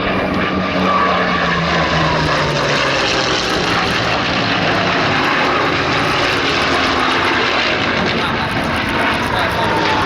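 A Spanish-built Messerschmitt fitted with a Merlin engine flies a display at an airshow, its propeller engine droning loud and steady throughout, with a commentator's voice running underneath.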